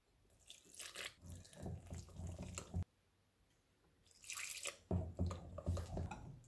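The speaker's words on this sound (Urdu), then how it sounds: "ہم تھوڑا تھوڑا پانی ڈال کے اس کا پیسٹ بنا لیں گے" Water poured a little at a time into roasted gram flour (besan) while mixing a paste for kadhi pakora, heard as close, intermittent wet splashing bursts with a brief quiet pause midway.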